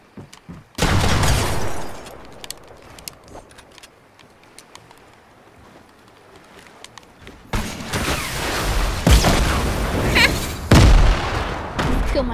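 Bursts of enemy gunfire in the Fortnite video game, loud broadband cracks that come in two clusters, one early and a denser, louder run in the last few seconds, with quieter game ambience between them.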